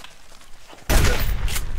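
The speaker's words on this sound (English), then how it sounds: "He's already shooting at me." A rogue opens fire in the survival game Subsistence, a sudden loud burst of gunfire breaking in after a quiet stretch and ringing on as a dense, sustained blast.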